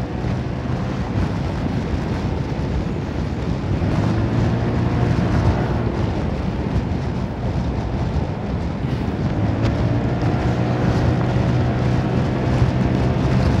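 A motorcycle engine runs at full throttle in a continuous loud drone while riding, with rumbling wind buffeting the microphone and pitch rising and falling slightly.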